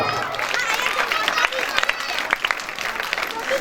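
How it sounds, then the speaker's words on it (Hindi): A crowd at a devotional mandali performance in Baloda Bazar applauding steadily throughout, with dense scattered clapping and some sharper claps standing out, mixed with faint background chatter. "जोरदार तालियों से स्वागत"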